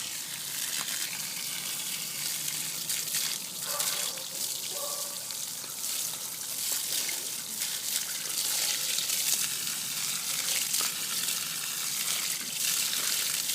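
Hose water sprays steadily onto a Harley-Davidson Fatboy (2004) air filter outdoors over rocks, a continuous broadband rush with small shifts as the stream moves across the filter.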